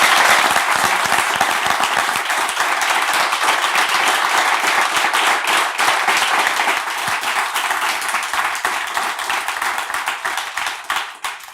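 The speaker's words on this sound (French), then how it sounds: "Est-ce qu'on peut applaudir très fort?" Loud, sustained applause from a church audience fills the space with dense clapping of many hands, close and steady for several seconds before easing slightly at the end.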